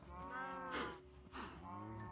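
Cows in the Minecraft video game moo in a pen, several drawn-out lowing calls overlapping one another, fairly close and clear with no talking.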